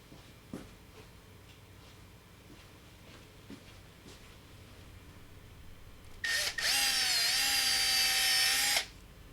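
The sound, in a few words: power drill drilling a hole in headlight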